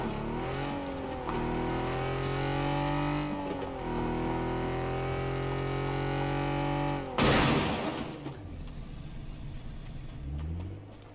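Car engine in PUBG, a loud, close motor droning and shifting pitch as it drives and revs, then a sharp crashing burst of impact before the engine settles and revs again.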